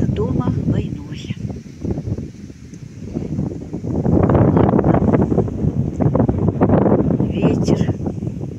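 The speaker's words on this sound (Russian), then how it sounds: "Ветер" Gusting autumn wind blows over reeds on a riverbank in the Dnipropetrovsk region, a loud, rough rushing that rises and falls and buffets the microphone throughout.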